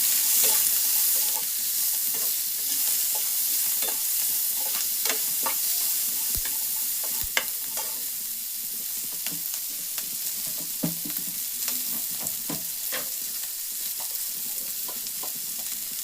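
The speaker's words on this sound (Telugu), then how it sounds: "మిర్చి, ఆనియన్. ఓకే, ఇవి బాగా వేగాలండి." Green chilies and onions fry in a pan after curry leaves, giving a steady close hiss of oil broken by repeated scraping clicks of a stirring spoon over about sixteen seconds, with no talking.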